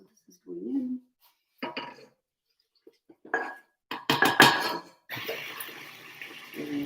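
Yeast roll dough being mixed in a bowl, with scattered clinks and knocks, then a stretch of loud, wet, sloppy slapping and sloshing toward the end, and a voice briefly heard.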